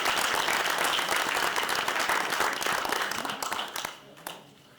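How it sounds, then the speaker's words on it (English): Audience at a city council meeting applauding holiday decorating contest winners, full dense applause that tapers off into a few scattered claps at the end. "Let's give them one more round of applause."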